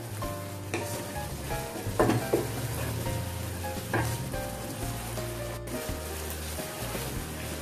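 Masala for a Tamil-style chicken gravy is stirred in a frying pan, giving a steady sizzle with scraping spoon strokes around two and four seconds. No one speaks.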